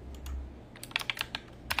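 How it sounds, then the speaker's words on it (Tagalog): Keys clacking on a computer keyboard during a livestream, with a few sharp, fairly close taps in a loose burst after a low rumbly start. "Ganda naman ang keyboard ni Lu"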